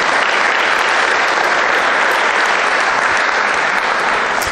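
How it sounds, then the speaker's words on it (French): Steady, dense applause from an audience inside a church during a Saint Anne feast day gathering, loud and continuous throughout with no pauses. "Alors on peut l'applaudir, Raymond, énormément"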